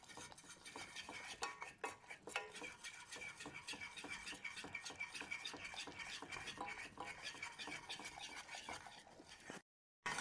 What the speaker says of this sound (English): While mixing the flour when it starts to thicken like this